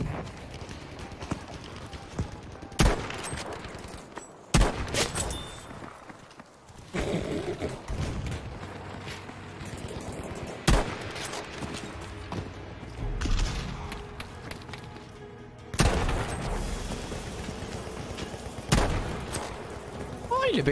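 Gunfire in Battlefield V online multiplayer: sharp shots and bursts break out irregularly amid hoofbeat-like clatter and battle noise, some close and loud, others farther off, with someone talking excitedly between them.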